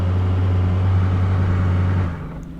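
Porsche 963 race car engine and exhaust, a loud steady low drone with a rough buzzing edge that holds for two seconds, then drops away into quieter background.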